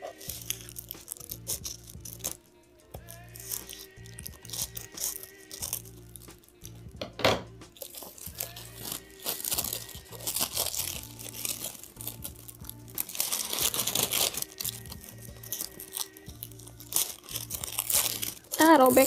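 A plastic-wrapped book package is torn and crinkled open up close in bursts of sharp rustling and ripping, with a quieter stretch partway through. Someone speaks now and then.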